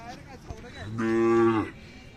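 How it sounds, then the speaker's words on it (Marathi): A cow moos loudly and close at a Khillar cattle market fair, a single long, rich low call lasting under a second, with faint crowd noise around it. "इथे एक गाय आहे"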